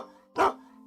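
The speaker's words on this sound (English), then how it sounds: "That's the dog." One short, sharp dog bark from a Stanley: Spring Fever children's video game, loud and close, set against a faint sustained musical tone.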